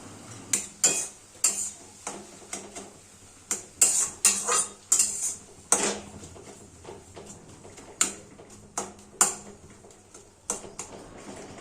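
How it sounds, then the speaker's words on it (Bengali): Kalmi (water spinach) greens being stirred in a metal pot, a spoon repeatedly scraping and clinking against the sides in an irregular rhythm of sharp knocks, close and fairly quiet, with no talking. "শাকগুলো ধীরে ধীরে নাড়াচাড়া করতে থাকবো"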